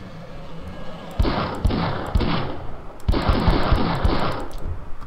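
Rapid bursts of M249 machine gun fire in the block-building game CastleMiner Z, two long sustained volleys of fast, loud automatic shots separated by brief pauses, punctuated by sharp individual cracks.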